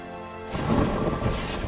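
Lightning Strike spell effect in the MTG Arena digital card game: a sudden broadband crackling crash bursts in after a quiet start and rumbles on loudly to the end, with no talking.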